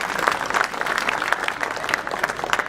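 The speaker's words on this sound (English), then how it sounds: "A round of applause for him for being here with us" A corporate innovation event audience gives a steady round of applause, dense crisp clapping held at even loudness for the whole stretch, with faint voices mixed underneath.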